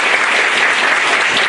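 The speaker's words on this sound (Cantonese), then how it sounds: "咁可唔可以借助大家掌聲？" Audience applause, a loud, dense, continuous burst of many hands clapping together without pause.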